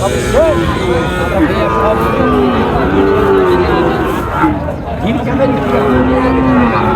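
Bull calves and cattle low and moo repeatedly amid a steady crowd murmur at the busy Chaubaria livestock market in Naogaon, Bangladesh, with people talking throughout.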